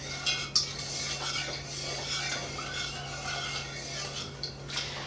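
A spoon stirs sugar into water in a pot while making kombucha, giving a continuous soft scraping and gritty swishing with occasional light clinks against the pot, close and steady throughout.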